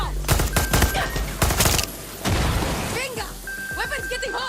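Close, rapid bursts of weapon fire rattle in Far Cry 6, clustered in dense volleys early on, then sparser shots under voice chatter and game effects.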